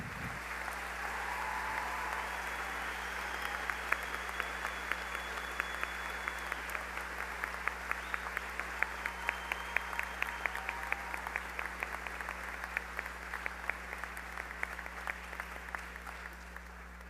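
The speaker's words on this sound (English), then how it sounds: "Please, will you all join me in applauding our 2018 valedictorian, Saul Ocampo" A graduation crowd at the 2018 Muscatine High School ceremony applauds the valedictorian and his parents with steady, sustained clapping that holds at an even, moderate level for about seventeen seconds over a low constant hum.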